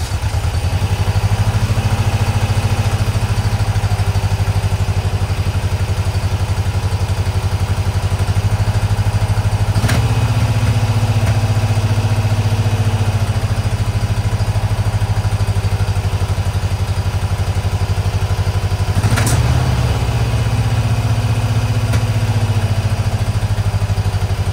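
Freshly installed Volkswagen Type 4 engine idling steadily and loudly up close, a continuous low rumble with a couple of brief clicks and no talk.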